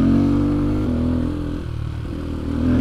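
A Fantic 125 motorcycle engine riding up a small path gives a loud, close, rough mid-pitched drone that dips briefly midway, then builds again toward the end.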